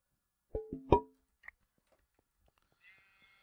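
A sheep in a Minecraft modpack game gives a couple of short, clear bleats in quick succession, followed by faint clicks and a soft game sound, with no talking.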